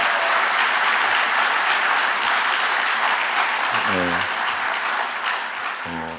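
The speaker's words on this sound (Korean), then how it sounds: "큰 박수로 다시 한번 부탁드립니다" A congregation at a winter church camp in Gangneung applauds a choir after a hymn, dense sustained clapping filling the room, with a voice briefly speaking near the end.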